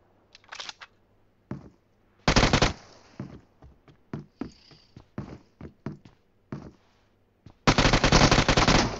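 Gunfire in the mobile battle royale game PUBG Mobile rings out as single sharp shots and short bursts, ending in a sustained rapid automatic volley, loud and close with no talking.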